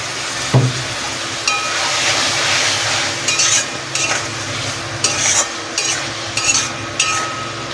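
Spice masala sautéing in a pan with a splash of water, steady loud sizzle broken by repeated scraping stirs of a spoon, close by with no voices, for a water chestnut curry.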